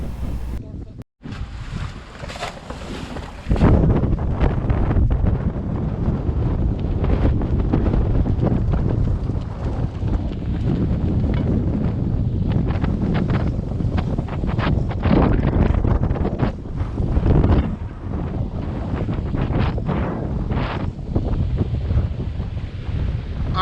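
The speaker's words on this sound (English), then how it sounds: "We knew we would be getting a lot of wind" Strong wind buffets a sailboat at anchor in 22-knot winds and three-foot seas, a loud continuous roar with gusting rumble against the microphone and water slapping beneath.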